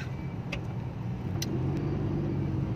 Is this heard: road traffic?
yes